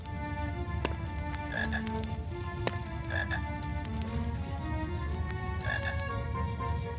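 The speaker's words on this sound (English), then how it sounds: "we can hear the croaking of a chocolate frog" Chocolate frog croaking in the 2001 PC game Harry Potter and the Philosopher's Stone, a few deep, repeated croaks over a steady rainy-sounding ambient hiss, with no voices.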